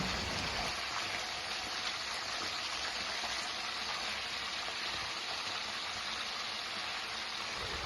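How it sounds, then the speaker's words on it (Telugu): Chicken deep fries in hot oil, a dense, even hiss and crackle that holds steady and close for several seconds with no voices over it. "ఇప్పుడు ఆయిల్ బాగా హీట్ ఎక్కింది మనం ముందుగా శుభ్రంగా కడిగి పెట్టుకున్న చికెన్ని ఆయిల్లో వేసుకొని గోల్డెన్ కలర్ వచ్చే వరకు డీప్ ఫ్రై చేసుకోవాలి"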